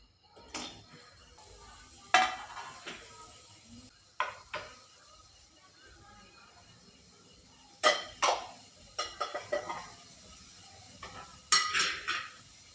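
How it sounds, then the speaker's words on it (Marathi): Onion stirred in a pan for Kolhapuri egg curry (anda rassa), heard as sparse metallic clinks and scrapes of a spoon against the vessel over a faint background, with no talking. "मध्ये घालूया कांदा"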